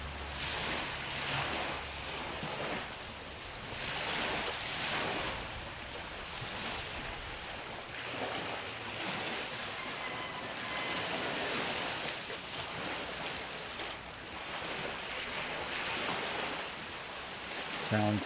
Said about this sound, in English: Sounds courtesy of the ocean.